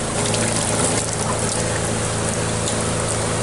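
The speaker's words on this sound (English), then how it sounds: "So I just turned on the water faucet." Steady rushing water pouring from a faucet in a fifth-wheel trailer, loud and continuous, a close broadband hiss with no voices.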